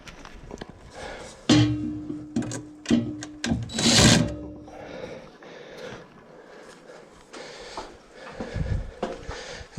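A power driver spinning screws into a ceiling fan mount during installation, heard in several short whirring bursts with pauses between them, close and moderately loud.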